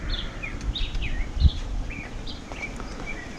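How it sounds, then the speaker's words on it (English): Several birds chirp and whistle outdoors on a breezy fall day, short repeated calls at moderate distance over steady wind noise and a low rumble. "And you can hear the birds."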